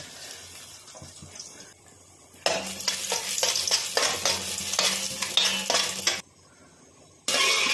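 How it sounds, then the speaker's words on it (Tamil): Cashews and raisins frying in hot ghee for jackfruit payasam, a loud bright sizzle that starts abruptly and keeps crackling with spoon stirring, briefly cutting out before resuming, no talking. "முந்திரி திராட்சையை வறுத்து எடுத்துடுவோங்க."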